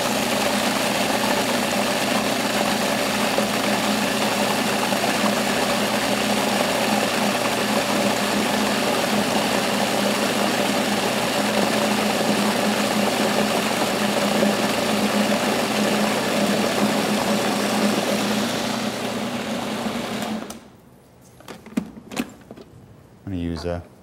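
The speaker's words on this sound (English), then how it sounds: "we will turn the machine on and we'll mount it with a bit of canola oil" Food processor blending romesco sauce while canola oil is added, a loud steady motor whir running continuously for about twenty seconds before cutting off, followed by a few short knocks.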